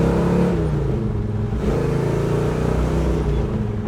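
A 1969 Chevrolet Chevelle cruises on the road with a steady low engine drone and hum from inside the car, holding a constant moderate level with slight variation in revs and no speech.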